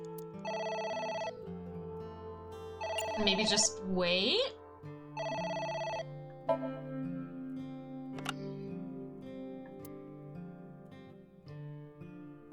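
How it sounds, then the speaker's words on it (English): A phone rings in the video game AI: The Somnium Files, repeated bursts of bright electronic bell trilling with game music underneath and a voice speaking briefly between the rings. "The phone is ringing."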